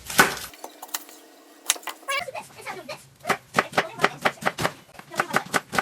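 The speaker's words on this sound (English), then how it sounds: "Up next is the onion." Knife chopping an onion on a cutting board during beef vegetable soup prep, a few scattered cuts early then a steady run of close, crisp rhythmic chops.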